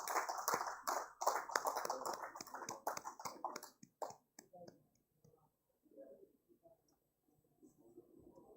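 A fairly quiet spatter of clapping rises from an awards ceremony audience, thinning out after a few seconds and giving way to faint murmuring voices in the hall.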